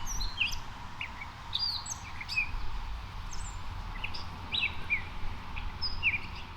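A belted kingfisher calls in a snowy outdoor setting, giving short, sharp chirping notes in loose bursts over a low, steady background rumble, with no talking.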